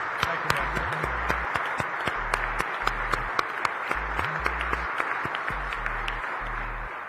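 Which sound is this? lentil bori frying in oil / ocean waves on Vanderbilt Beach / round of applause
round of applause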